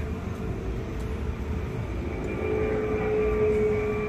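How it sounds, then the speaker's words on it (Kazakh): An airplane passes over Miami in the evening, a steady distant engine roar that swells slightly toward the end, heard alone without talking. "бул жакта самолет учуп барат"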